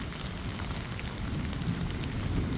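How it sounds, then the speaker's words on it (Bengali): Light drizzling rain in a Meghalaya village forms a dense, even wash of patter and hiss, steady and moderately loud with no voices. "বৃষ্টির ওয়েদার, ঝিমঝিম বৃষ্টি হচ্ছে।"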